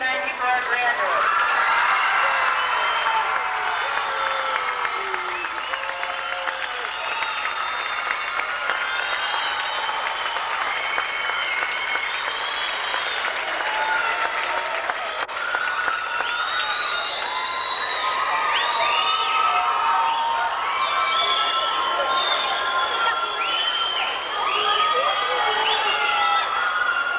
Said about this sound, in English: please join me in applauding our 1994 graduates